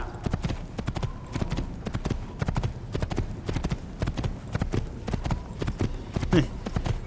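Horse hooves clop in a steady, rhythmic gait in the video game Assassin's Creed, continuous and close, with faint background ambience and a brief higher-pitched sound near the end.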